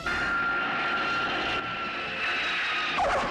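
An airplane comes in to land in the film Airplane!, a steady loud engine roar with a high whine sustained throughout, slightly shifting near the end.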